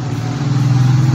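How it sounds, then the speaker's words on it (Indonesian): Cars and motorcycles pass along a roadside street beside a gallery kiosk, a steady low engine rumble that swells slightly as a vehicle draws near, with no voices heard. "mohon maaf mungkin ada suara-suara mobil atau motor atau suara-suara berisik lainnya, karena saya dibuat ini di kios galeri THM di pinggir jalan"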